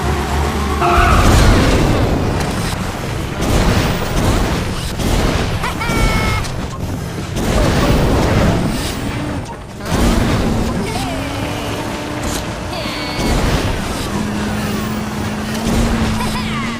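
ModNation Racers kart race getting underway: a loud, dense wash of revving kart engines and skidding with crashes, over tonal game sounds and possible voices.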